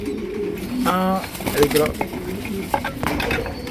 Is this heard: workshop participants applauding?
no